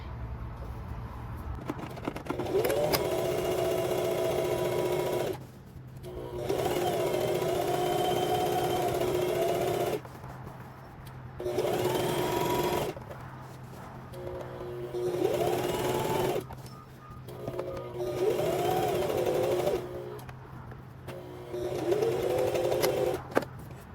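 Sewing machine stitching the hem of a sleeve on a misses' top, running in several sustained whirring bursts separated by short pauses, close and clear with no talk.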